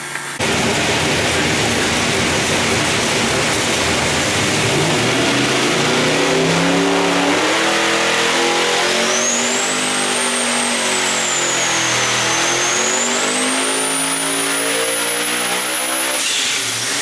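A twin-turbo 615 cubic inch big-block Chevy V8 on a dyno runs loud and steady, its roar climbing through a long rising pull with a whistling turbo spool overhead before cutting off near the end.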